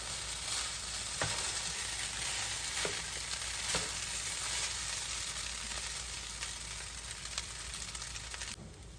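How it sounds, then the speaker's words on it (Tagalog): Special fried rice being stir-fried and tossed in a pan, a continuous soft sizzle with periodic spatula scrapes and taps, quiet and steady, no voices. "halu-haluin lang po natin para magkahalo-halo po yung lasa"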